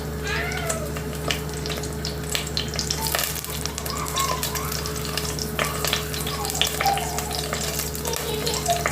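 Mustard seeds and green chilies frying in coconut oil, giving a steady close sizzle and crackle with scattered small pops, alone with no voices, under a constant low hum.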